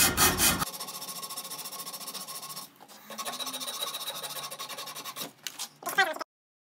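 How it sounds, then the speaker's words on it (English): Sandpaper rubs steadily along a wooden axe handle in close, continuous rasping strokes, pausing briefly midway and ending with a few quicker scrubs before stopping. "At this point, I'm gonna go to sandpaper now, because I don't want to take too much off."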